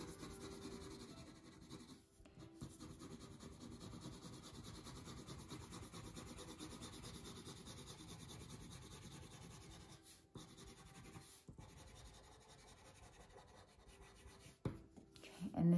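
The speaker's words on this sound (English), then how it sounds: "I'm gonna try to see how light I can make it by barely pressing down on your pencil." A pencil barely pressed to paper lightly shades a landscape drawing, making a quiet, steady scratchy rasp that runs continuously with a few brief pauses.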